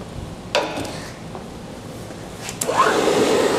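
A 2.5-inch shell mill on a milling machine, spindle near 1100 rpm, skims the face of a steel block, a loud steady whir with two sharp bursts of cutting contact and a rising grind at the end.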